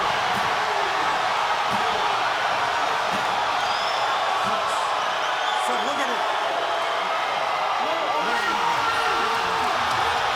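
Boxing crowd at a fight night in Kissimmee cheering and roaring steadily, a loud dense wall of voices with whoops rising throughout.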